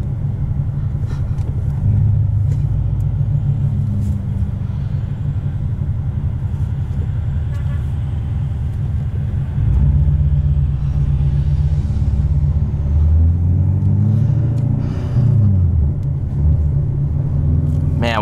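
A 2015 Chevrolet Corvette C7 Stingray with a manual gearbox, headers, a cam and a loud aftermarket exhaust rumbles steadily and close for the whole stretch, with the engine note swelling around the midpoint. A voice speaks over it at times.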